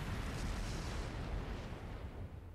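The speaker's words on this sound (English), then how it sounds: "Flash grenade! Everyone down!" A flash grenade goes off in the video game Trails of Cold Steel 3, filling the moment with a loud, sustained burst of roaring noise that slowly thins out.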